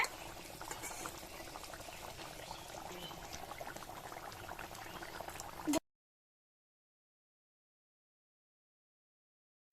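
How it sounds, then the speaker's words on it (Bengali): Rohu fish kalia curry bubbling at a steady boil in a pot, a dense, continuous simmering hiss with soft popping, fairly quiet and alone for about six seconds before cutting to silence. "বন্ধুরা মাছটা আমি মাছের ঝোলে দেওয়ার পরে 4 মিনিট ফুটিয়ে নিলাম।"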